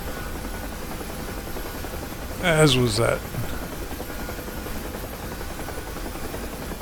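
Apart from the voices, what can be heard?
Huey helicopter rotor and engine, from video game DCS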